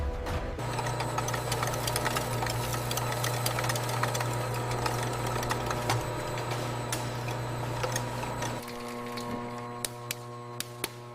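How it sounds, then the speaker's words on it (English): An industrial grinder breaks fish meat down into a sticky paste in a Korean fish-snack factory, giving a loud, steady mechanical drone with low hum and rattling that drops in level near the end, followed by a few clanks. "Inside the grinder, fish is broken down until individual pieces disappear."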